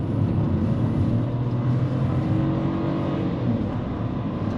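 A Proton S70 car engine pulls hard on the Genting hillclimb, a loud, steady drone from inside the cabin that holds its level throughout with slight dips, no voices over it.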